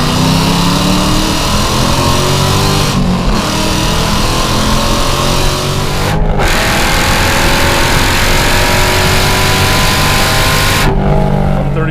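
A Hennessey HPE850 Dodge Challenger Hellcat roars loudly under hard acceleration with its exhaust dumps open, the engine climbing through gears with brief dips at each of three shifts.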